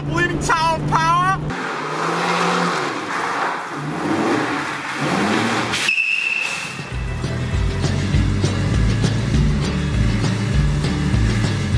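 A 1970 Dodge Challenger fitted with new spark plugs and air filter starts up and pulls away, its engine rumbling low and rising as it revs, with a brief voice near the start.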